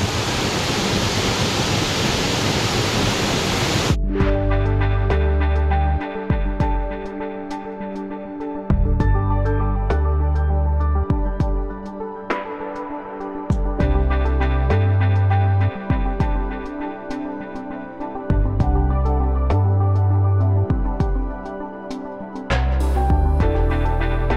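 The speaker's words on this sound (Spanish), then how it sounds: "Con la vista y el sonido de la cascada" A steady, loud rushing roar of the Cascada Laguna Submarino waterfall near Ushuaia fills the first four seconds, then rhythmic background music takes over for the rest.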